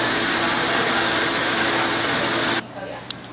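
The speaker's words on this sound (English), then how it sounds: "now you'll hear the water start to run." Water rushes loudly and steadily inside a commercial dishwasher during its cycle, a dense hiss that cuts off abruptly near the end, leaving quiet with a faint click.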